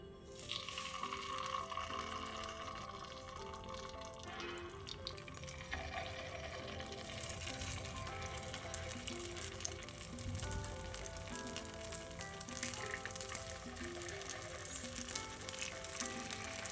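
Chettinad kara paniyaram batter fries in oil in a pan over a medium flame, giving a steady, loud, continuous sizzle and crackle that runs the whole stretch without pause.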